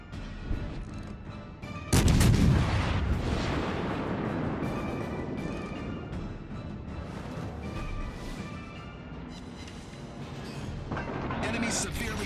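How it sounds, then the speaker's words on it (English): A big broadside of battleship guns roars out in World of Warships: Legends on the USS California, a heavy blast followed by rumbling, sustained gunfire and explosions, with game voice announcements mixed in. "Concentrate fire on the designated target."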